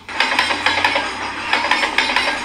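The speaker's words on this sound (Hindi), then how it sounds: "ये तो ट्रेन की आवाज है" Rhythmic metallic clacking of Indian Railways train wheels over rail joints, repeating in quick pairs under a steady rumbling rattle, fairly close.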